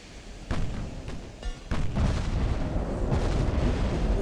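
Naval gunfire from 7-inch guns aboard a warship in the naval strategy game Ultimate Admiral Dreadnoughts: several loud, booming shots spaced a second or so apart, each followed by a rumbling roll that carries over a dense, continuous low battle din.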